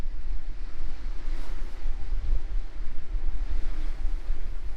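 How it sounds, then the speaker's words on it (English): Strong wind and rolling sea waves on the Holderness coast at Withernsea on England's east coast, a steady roar of surf under heavy gusts buffeting the microphone, loud and continuous with no talking. "There is going to be a fair amount of wind noise"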